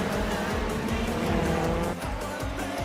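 Race cars, a Dodge Viper among the supercars, roaring in a Grand Touring Championship video game round at Portimão or Valencia, with continuous loud engine drone, shifting revs and tyre noise as cars pass, no talk.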